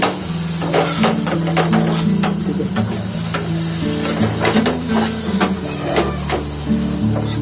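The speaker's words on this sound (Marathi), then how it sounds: "टॅमॅटो पण टाकून घेतलेले आणि हे टॅमॅटो थोडासा कांदा चांगला शिजू देऊया आपण फ्रायवर" Tomatoes and onion fry and get stirred in a pan for a spicy rock oyster curry, a loud continuous sizzle with scraping stir strokes and sharp ticks over a low tonal background hum.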